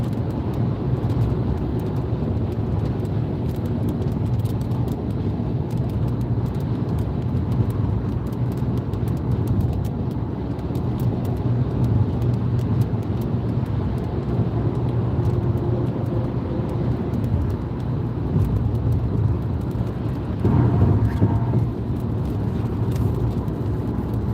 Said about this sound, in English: It's definitely raining again.